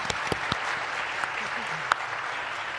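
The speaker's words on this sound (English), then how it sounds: "join me in a round of applause" Light, fairly quiet applause from a breakfast audience at a women-in-technology panel, with a few sharper isolated claps standing out over the steady patter.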